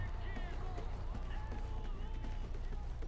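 Quick running footsteps in the video game Call of Duty, a rapid patter of steps heard under game noise and a player's talk.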